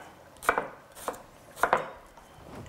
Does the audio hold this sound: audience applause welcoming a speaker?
no